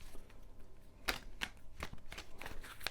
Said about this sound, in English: So I'm just going to shuffle the cards first of all.